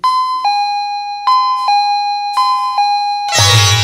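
A doorbell sounds from its button being pressed: a loud, close electronic chime repeating in clear two-tone pairs several times, ending in a burst of noisier rattling at the end.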